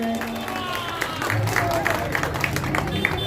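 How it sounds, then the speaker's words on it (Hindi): A crowd claps in scattered bursts at a Samajwadi Party street-corner election rally in Gorakhpur, fairly faint under ongoing voices and crowd babble. "एक बार इनके लिए जोरदार तालियां हो जाए"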